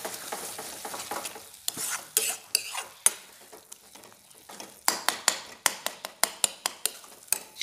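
A spoon stirs stuffed gourd gravy in a cooking pan, with a low simmering sizzle and a run of sharp metallic taps and scrapes against the pan, clustered in quick bursts, close up.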